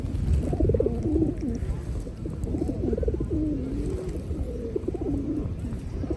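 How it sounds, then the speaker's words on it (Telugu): Pigeons coo steadily at close range outdoors while being fed bread, soft rolling calls overlapping one another above a constant rumble of background noise. "ఈ పావురాలు చూడండి ఒకసారి బ్రెడ్ పెట్టానని నా దగ్గర నుంచి అసలు పోవట్లేదు"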